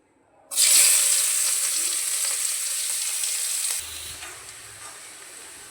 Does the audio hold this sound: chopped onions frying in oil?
yes